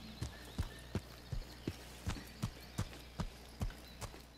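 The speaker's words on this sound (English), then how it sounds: "the footstep audio is very crisp and clear with this game" Footsteps in the video game Incursion Red River fall in an even walking rhythm, about a dozen crisp, close thuds over a quiet low background.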